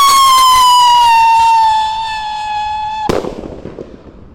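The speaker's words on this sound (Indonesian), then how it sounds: "kalau ini roket Roman Candle Piro Roketar, kita nyalakan. Siap meluncur." A Roman candle firework rocket launches with a loud descending whistle that glides downward for about three seconds, then ends in a single sharp bang followed by crackling fizz, heard alone without talk.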